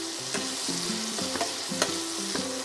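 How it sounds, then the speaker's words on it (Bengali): Onions frying in a pan for a katla fish dish, a steady close sizzle with rhythmic stirring knocks of a spatula against the pan, no voices. "পেঁয়াজগুলো দিয়ে আমি মাছটাকে একটু পেঁয়াজগুলোকে একটু ভেজে নেব।"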